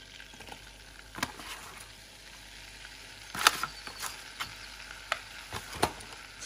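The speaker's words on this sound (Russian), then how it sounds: "Растапливаем сливочное масло и добавляем муку." Butter melting with flour in a pan for béchamel sauce, a soft steady sizzle with occasional louder scraping stirs of a utensil, close and fairly quiet, no talk.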